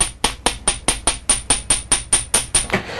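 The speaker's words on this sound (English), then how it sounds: "hammering the front part makes it look nice, and it hardens up the wire so that it's less springy" A wire earring's front section is struck repeatedly with a jewelry hammer, about a dozen sharp, evenly spaced metallic taps ringing close and loud with no talk.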